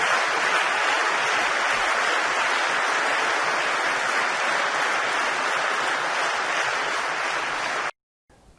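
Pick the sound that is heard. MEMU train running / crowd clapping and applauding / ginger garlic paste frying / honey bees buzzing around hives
crowd clapping and applauding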